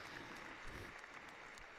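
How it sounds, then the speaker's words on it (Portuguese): Faint, distant applause from the faithful gathered inside St. Peter's Basilica at the close of a papal general audience, a soft steady patter of clapping with no talk. "Brota um aplauso dos fiéis presentes"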